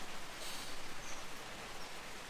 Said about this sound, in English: Has been raining all night, still is.